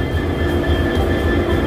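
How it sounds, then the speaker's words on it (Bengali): Bongaigaon Intercity Express standing at platform 5 of a station, heard as a loud, steady low rumble and drone with a sustained tonal hum, continuous throughout without speech. "তো গাইস, এই হলো আমাদের ট্রেন"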